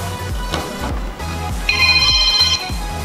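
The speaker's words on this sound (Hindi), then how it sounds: "फोन आ रहा है." A phone ringtone plays loudly and steadily for about three seconds over a pulsing music-like backing, with no talk.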